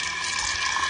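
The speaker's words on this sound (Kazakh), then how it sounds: "Обычный краннан су аламын." Water runs from an ordinary kitchen tap in a short, steady splashing gush, close and moderately loud, with no voices.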